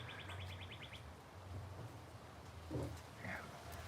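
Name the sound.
birds chirping outdoors in New Orleans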